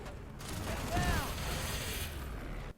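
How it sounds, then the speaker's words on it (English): A rocket launcher fires in the shooter game FEAR 3: a short, thin burst with a mechanical clack and a brief whoosh around one second, set over steady game background noise and lacking any heavy boom. "Watch me shoot this rocket launcher"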